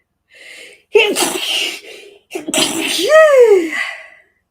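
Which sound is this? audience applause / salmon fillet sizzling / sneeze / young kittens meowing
sneeze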